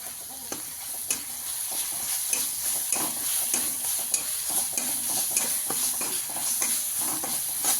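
Ginger and garlic frying in a pan for egg curry, with a bright, steady sizzle and quick repeated spatula strokes scraping the pan in a busy rhythm, close and clear with no speech.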